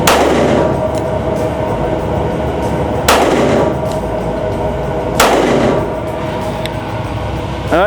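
Three sharp pistol shots from a Smith & Wesson Shield Plus Carry Comp at an outdoor range, spaced a couple of seconds apart, each a loud crack with a short ringing decay over steady background noise.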